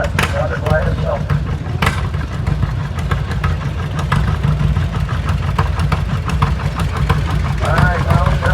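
Oliver tractor engine running in a parade at the National Oliver Show in Boonville, Missouri, a steady low rumble throughout with an announcer talking over it and crowd noise around.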